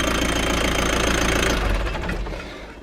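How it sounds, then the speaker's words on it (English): An old motorhome engine idles after sitting twelve years in bushes, a steady loud knocking rumble close up that eases slightly toward the end, with no voices. "I'm gonna let it idle again for a while"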